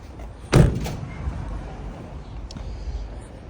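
A campervan's rear door, on a Devon Monte Carlo, shuts with one solid thud close by, followed by a quieter knock and faint rattles.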